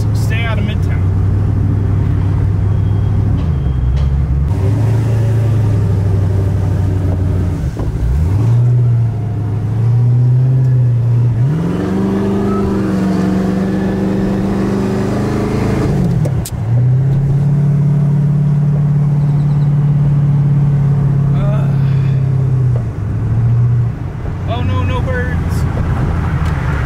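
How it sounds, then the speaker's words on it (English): A turbocharged 1500-horsepower Camaro ZL1 holds long, loud revs near the listener, the engine note climbing and settling in several sustained pulls with brief drops between them, plus a short burst of turbo flutter. "We got the 1500 horsepower ZL1 here, parked up. Did some little turbo flutters"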